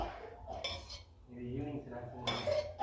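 A kadai wok set on a stove and oil spooned in for a peas masala snack, with soft metallic clinks and spoon scrapes against the pan, quiet and close.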